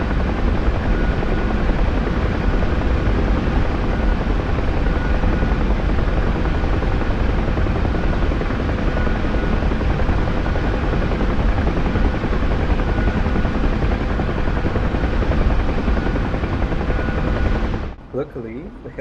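A helicopter in the DCS flight combat game thunders with a loud, constant rotor and turbine roar that runs unbroken for most of the stretch before cutting off abruptly near the end.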